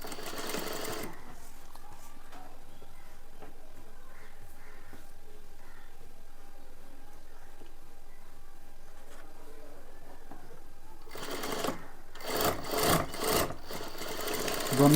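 A sewing machine stitches the shoulder seams of a simple blouse, rattling in a short run at the start and again near the end, with a long quiet stretch between.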